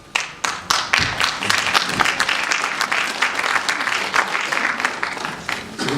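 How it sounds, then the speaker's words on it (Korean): Audience at a political speech on Sejong City as an administrative capital applauds, a few separate sharp claps at first swelling into sustained, lively clapping from a large crowd. "지금부터 이렇게 박수를 계속 치시면"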